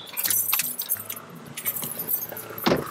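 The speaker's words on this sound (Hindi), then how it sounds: "लेकिन मैं चाबी निकाल लेता हूँ" Car keys jangle and clink as they are pulled from the ignition, a close metallic rattle running through most of the moment, with a low engine hum briefly underneath.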